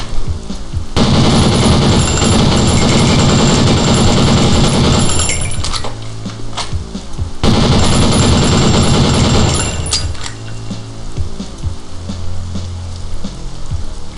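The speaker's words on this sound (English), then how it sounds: "I use some left-handed M249" Left-handed M249 machine gun in Postal 2 unleashing two long, loud sustained bursts of rapid automatic fire, each lasting several seconds, separated by a brief pause with quieter background sound.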